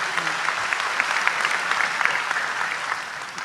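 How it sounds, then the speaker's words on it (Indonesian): A crowd applauds steadily, dense clapping from many hands that holds for a few seconds before easing slightly. "Tepuk tangan untuk beliau"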